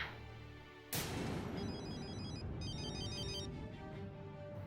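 A phone ringtone sounds suddenly after a quiet moment, a bright electronic melody that repeats in short pulsing phrases over a low background.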